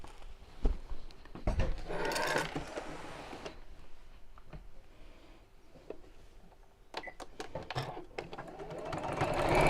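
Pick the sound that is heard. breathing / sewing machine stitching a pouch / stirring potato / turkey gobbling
sewing machine stitching a pouch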